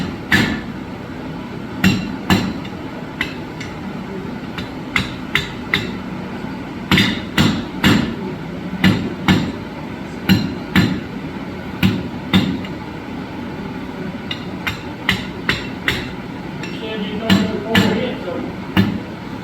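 A blacksmith hammers hot metal, forging it out after upsetting, with sharp ringing blows struck singly and in quick pairs, loud and close, and some talking between strikes.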